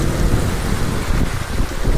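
Heavy rain pouring down during a storm on a delivery run through flooded streets, a dense, loud, steady hiss with no breaks and no voices.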